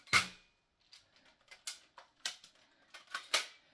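A toy gun's trigger is pulled and fired: one sharp crack, then a run of about seven lighter, quick snapping clicks at irregular intervals, close by and alone.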